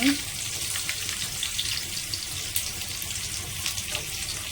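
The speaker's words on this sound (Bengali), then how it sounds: "ভেজে রাখার পরে সেই তেল ছিল কড়াইতে, সেই কড়াইয়ে আলুটা ভেজে নিচ্ছি ভালো করে" Potatoes frying in oil left over from frying rohu fish in a kadai, a steady, even hiss lasting throughout, close and moderately loud with no clear breaks.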